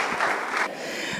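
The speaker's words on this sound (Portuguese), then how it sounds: "Aplauda o Senhor" Church congregation applauding in a steady broadband patter of many hands, close and fairly loud, easing slightly partway through before fading out at the end.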